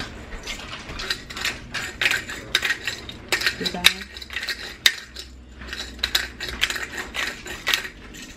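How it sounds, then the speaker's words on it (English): A metal spoon scrapes and clinks around inside a pot of lemon chicken orzo soup in a steady stirring rhythm, with a few sharper clanks along the way. "Now we're going to give that a stir"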